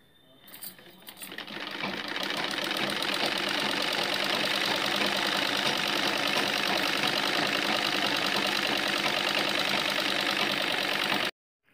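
A sewing machine stitching the upper seam of a blouse sleeve runs in one continuous fast whirring rattle, starting up after a brief pause and stopping abruptly at the end, with no talking.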